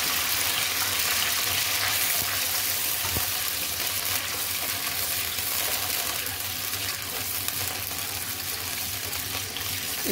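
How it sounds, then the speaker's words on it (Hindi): Steady, continuous sizzling of yogurt frying in a pan while making zarda sweet rice, a dense even crackle with no pauses and no speech. "इसको आपने दही को इसमें भून लेना है।"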